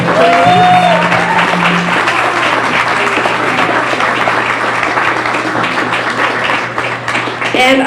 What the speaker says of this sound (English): I want to give Marissa a big round of applause and thank you for joining us.